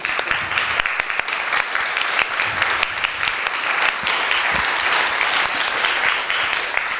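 An audience at a conference applauds filmmaker Steven Gunnell, a full, sustained roomful of clapping that stays dense and even for several seconds with no talk over it.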